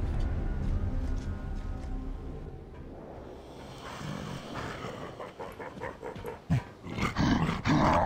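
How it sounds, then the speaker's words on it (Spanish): Dogs in the video game Gears of War 3 growl and snarl in a low, rough rumble that runs throughout, swelling louder toward the end, with game ambience around them and no talking. "Ahí donde están esos perros."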